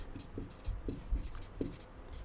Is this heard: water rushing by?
no